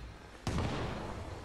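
A single loud gunshot-like blast bursts out in Baldur's Gate 3, then a rumbling reverberant tail decays slowly over steady game background noise.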